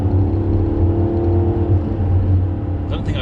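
A Maserati with a Ferrari V8 engine drives along, its deep steady engine note rumbling close and loud with slight variations in revs, and a brief higher noise near the end.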